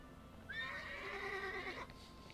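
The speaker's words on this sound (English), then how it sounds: "My horse is tough." A horse neighs once in World of Warcraft, a clear whinny lasting over a second that rises then trails off, heard alone against a quiet game background.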